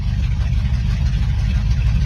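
A Ford Crown Victoria fitted with a 460 engine runs in a traffic jam, a steady deep low rumble close by with no speech over it.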